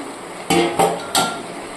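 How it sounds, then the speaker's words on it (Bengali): A lid comes off a cooking pot of pumpkin greens and stalks simmering in their own water: three sharp metallic clanks and scrapes in quick succession, close and fairly loud against a quiet background. "ঢাকনাটা খুলে নিচ্ছি"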